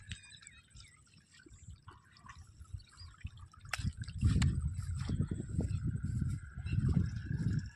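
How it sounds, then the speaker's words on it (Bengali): Water runs into and out of a farm field, a close gurgling, splashing flow that starts soft with scattered drips and swells louder and churning in the second half, with no voices. "এই দেখুন একদিকে জল ঢুকছে, একদিকে জল বেরোচ্ছে"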